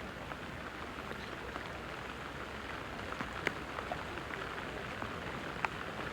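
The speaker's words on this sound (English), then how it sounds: "Very, very heavy rain. It's hammering down." Very heavy rain pours down on a golf course during a tournament broadcast, a dense steady hiss of drops with a few sharper patters, no voices over it.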